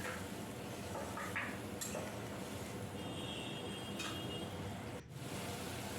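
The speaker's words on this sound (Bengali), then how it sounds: "মশলাটা ভালো করে নেড়ে নেড়ে তেল ওঠা পর্যন্ত আমি" Spice paste fries and sizzles in oil in a pan as it is stirred for a Bengali kajoli fish curry. A steady sizzle runs throughout, with a few faint clinks and scrapes of a utensil against the pan.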